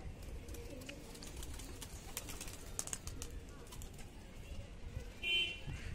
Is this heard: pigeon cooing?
yes